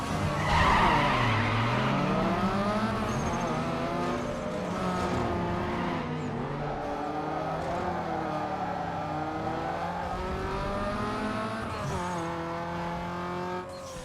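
A racing car in the video game Need for Speed Underground 2 skids hard. Tires squeal loudly and continuously over a revving engine for about fourteen seconds, with pitch sweeping up and down, and there is no talk.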